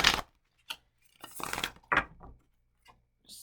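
A deck of cards gets shuffled in short, crisp riffling bursts separated by quiet pauses, close by and fairly soft.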